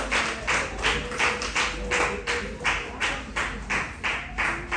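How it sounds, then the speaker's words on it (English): Rhythmic clapping at a Haitian church worship service, steady hand claps about twice per second, fairly close and continuous with no talk over them. "applaudir, plus fort, plus fort"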